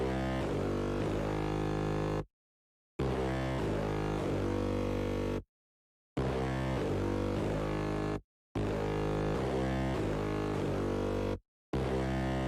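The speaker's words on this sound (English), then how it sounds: "I laid down this pretty simple bass line" A simple synth bass line of plain root notes, played on a hardcore bass patch from the Dynox Blast Bank, loud and dense in repeating phrases broken by short silent gaps, with no voice over it.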